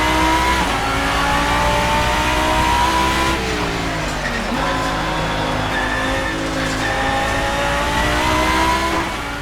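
A GT3 race car in the Assetto Corsa driving game, its engine loud and close, rising and falling steadily in pitch through gear changes and shifts, with faint tire noise underneath.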